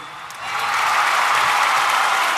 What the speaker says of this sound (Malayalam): നിങ്ങളുടെ പ്രോത്സാഹനം ഒന്ന് കൈയടിച്ചേ